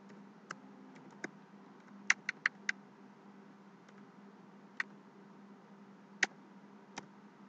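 Light clicks from a computer keyboard as C++ code is typed, sparse and quiet, with single keystrokes and a short quick burst spaced over several seconds against a faint steady hum.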